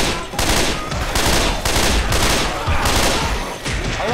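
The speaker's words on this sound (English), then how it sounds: "Can we stop shooting?" Dense, continuous gunfire in the Left 4 Dead 2 video game roars loudly throughout, overlapping shots forming a nearly unbroken barrage with no pauses.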